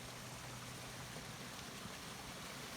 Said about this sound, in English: We found a baby waterfall.